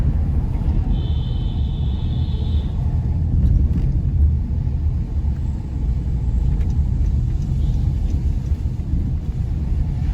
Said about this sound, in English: let's enjoy the views and sounds of Whitehall Avenue here in Kingston